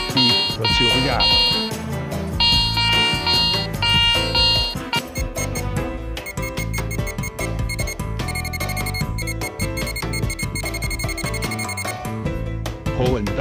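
A metal detector sweeps over a buried coin in the ground, sounding loud, repeated electronic beeps and layered tones that shift in pitch and rhythm, keeping a busy steady stream throughout.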